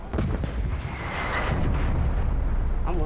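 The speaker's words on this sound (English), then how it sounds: "Hostile artillery targeting active. Wow. Net call. Incoming artillery." Artillery shells land in the video game Black Ops Cold War as a continuous, loud barrage of booming explosions and crackling impacts, dense low rumble filling the whole stretch with sharp bursts on top, close and overlapping without pause.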